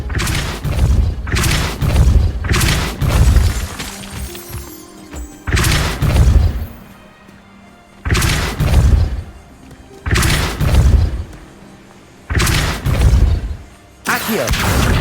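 Depulso spell impacts in Hogwarts Legacy, a series of loud booming, shattering blasts, about eight of them in an uneven rhythm, each ringing out briefly before a short lull.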